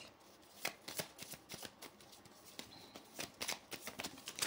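Tarot cards shuffled by hand, with a run of quick, close riffling bursts and a few cards slipping and falling, fairly faint and with no voice over them.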